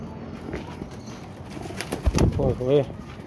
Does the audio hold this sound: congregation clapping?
no